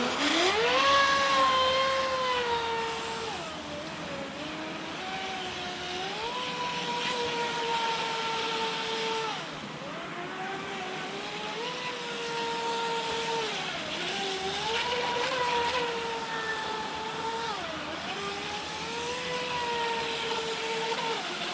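High-pitched electric whine of a Feilun FT011 RC speedboat racing on a river, the motor's pitch climbing and dipping repeatedly as it accelerates and turns, steady and fairly close with no talk.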